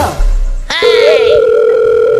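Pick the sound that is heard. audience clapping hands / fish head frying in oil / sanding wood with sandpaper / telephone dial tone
telephone dial tone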